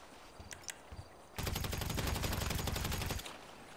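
Shotgun fire in GTA Online arrives as a dense burst of rapid blasts lasting nearly two seconds, loud and close, following a few scattered fainter shots.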